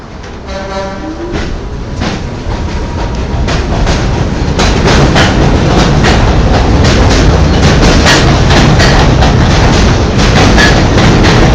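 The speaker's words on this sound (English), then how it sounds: "This is an F train to King Highway." An R46 F subway train at the 18th Avenue station on the Culver Line, starting with a brief horn-like tone, then building into a loud, steady rumble and clatter of wheels as it runs past.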